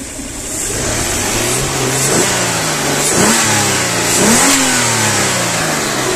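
A six-cylinder car engine revs repeatedly, rising and falling in pitch in several throttle blips over a steady idle, close by with no voices.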